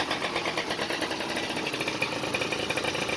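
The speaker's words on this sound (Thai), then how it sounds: "ติดเครื่องให้เจ้าของดูนิดนึง ประมาณนี้ครับ" Honda Dio ZX AF34 scooter engine idling steadily after starting, a dense, continuous buzzing rattle close by at even volume, with no talk over it.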